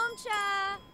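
A meal bell in The Sims 4 rings once, a bright metallic chime with a clear ringing tone that sustains briefly before fading, close and moderately loud.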